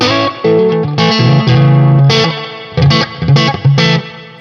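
Electric guitar played through an Analog Alien Rumble Seat pedal with delay, sustained chords and melodic notes ringing with repeating echoes and distorted grit, played alone in bursts with brief gaps.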